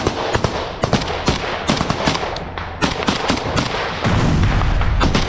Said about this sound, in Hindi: ताबड़तोड़ फायरिंग हुई है